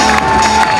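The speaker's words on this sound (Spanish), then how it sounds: "vamos a darles este fuerte aplauso" A big crowd cheers and applauds loudly at the start of the Valencia Marathon, a dense, continuous roar of clapping and shouting that fills the whole moment.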